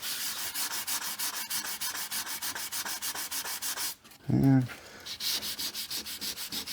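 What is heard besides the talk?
light hand sanding of wood before varnishing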